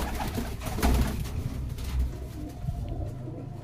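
Racing pigeons being readied for a tournament coo softly in their loft, with low, repeated throaty calls close by and a few rustles, and no voices.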